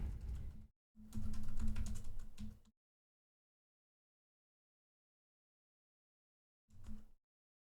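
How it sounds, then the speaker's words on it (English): Names typed on a computer keyboard while setting up personalized laser-cut Christmas ornaments: two bursts of close, quick key clatter, the second longer, then silence and a brief final flurry of keystrokes. "Over here, you can type the names."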